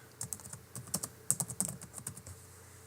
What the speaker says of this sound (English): Now I can type out the words that I want